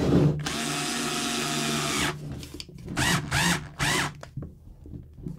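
A power drill drives screws into a Kyosho SC6 RC car during maintenance: one long steady whir, then several short whirring bursts, close and loud with no talk.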